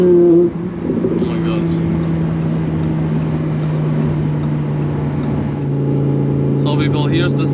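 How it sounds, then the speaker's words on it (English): Lamborghini Huracan Performante with an 850 HP VF supercharger conversion, engine droning steadily from inside the cabin under throttle, with a brief cut near the start; a voice speaks near the end. "You can hear the compressor cut of the car when he's giving it some throttle."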